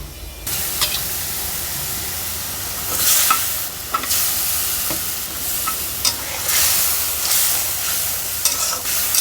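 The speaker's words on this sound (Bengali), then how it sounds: "একবারে মশলাটা ভালো মতন কষাইছি" Spices sauté in a pan before greens are added: a continuous close sizzle and hiss with repeated scraping stirs and light clinks, no voices.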